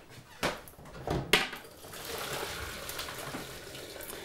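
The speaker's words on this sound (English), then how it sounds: "So what we're going to do now is drain these potatoes just over here" Boiled potatoes being drained into a sink, with a couple of knocks as the pot is handled, then a steady rush and splash of water pouring out.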